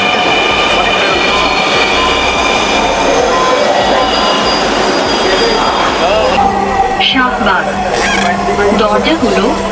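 A Dhaka metro train arrives at Shahbag station, rumbling loudly nearby, wheels squealing and screeching as it slows, with people talking over the steady roar.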